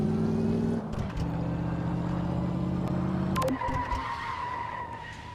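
A 1957 Chevy driven in Car Mechanic Simulator 2015: a loud, close engine drone and a long tire skid as the car swings round, then the motor fading to a lower rumble with a brief clatter.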